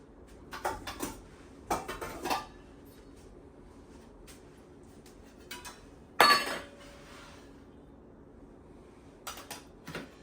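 A pan set down on a stovetop while chicken tikka masala is being prepared, heard as a few sharp metallic clanks and clinks in separate bursts, with a louder clatter near the middle and quieter taps toward the end.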